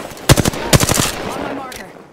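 Automatic gunfire in Apex Legends, with two sharp bursts of rapid shots close up, then scattered fainter shots trailing off over a lingering rumble.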